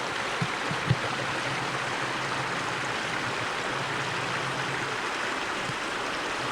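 A creek in spring runs fast and full, a steady, loud broadband rush of water with a few faint knocks near the start.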